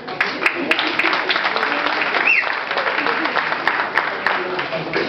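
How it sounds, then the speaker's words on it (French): Audience applause at a stand-up comedy show, a dense, steady wash of clapping lasting several seconds, with a voice heard faintly underneath. "Merci d'applaudir à la plus grande richesse du monde."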